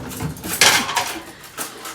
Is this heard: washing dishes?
yes